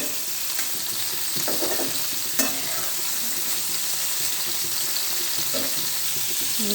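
Bitter gourd slices frying in a pan, a steady hiss of sizzling oil with a few scraping stirs of a spatula and one sharp clink near the start, close and continuous, no one speaking.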